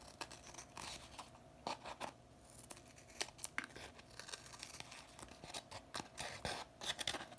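Scissors trim excess paper from a folded paper flexagon. There are close, quiet snips and crisp paper rustles in an irregular pattern, with no voices.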